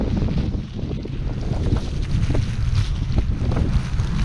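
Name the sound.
blizzard wind on the beach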